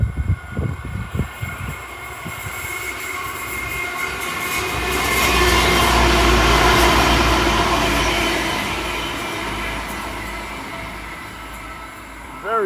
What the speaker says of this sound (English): Here comes our passenger train.